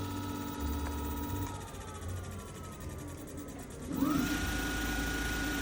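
A VSETT 10+ electric scooter's front hub motor spins at full speed on a stand, giving a steady high whine and hum with a tone that climbs and sharpens near the end, close up and alone.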